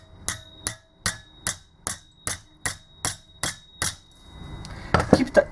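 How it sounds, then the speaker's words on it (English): Tapping a slip ring down onto the shaft of a Lucas A127 alternator with a long 21 mm socket, nine evenly spaced sharp metallic taps close by, followed by a brief clatter. "Now get yourself 21 long socket, and all what you have to do is just give it a few taps."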